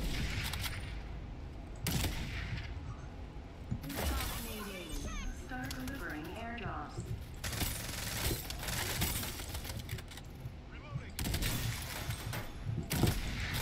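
Sharp shots from a .50 caliber sniper rifle in the battle royale game Farlight 84 crack out at irregular intervals amid busy game noise, while a player talks over them.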